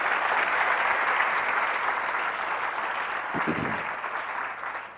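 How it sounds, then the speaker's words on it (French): A church congregation gives sustained, dense applause that fills the room evenly throughout and fades slightly at the end, with a brief voice rising through it near the close. "Quelqu'un acclame Jésus."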